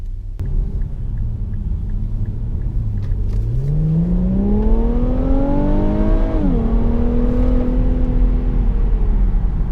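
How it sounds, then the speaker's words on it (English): An Infiniti Q60 Red Sport's VR30 twin-turbo V6 of 400 horsepower pulls hard as the car accelerates. Its engine note climbs steadily and rumbles, then dips briefly at a shift and carries on at a higher pitch. The sound is loud and continuous, with no talk. "when you start revving up the engine, you start doing performance driving, then you can hear some wonderful sounds from that awesome VR30 engine"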